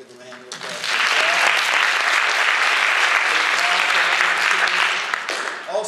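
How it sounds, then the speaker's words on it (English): Sustained applause from an audience at a Shatter the Stigma addiction awareness event, thanking volunteers; loud, even clapping swells after a brief pause, holds for several seconds, then tapers, with a voice heard faintly at the start. "give them a hand of applause"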